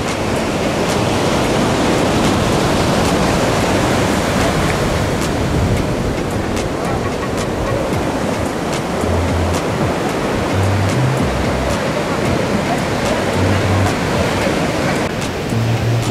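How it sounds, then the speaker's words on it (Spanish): Strong ocean surf at Playa el Palmar beach in Ixtapa Zihuatanejo, a constant loud roar of breaking waves that fills the whole stretch, with some wind buffeting the microphone. "el oleaje es fuerte"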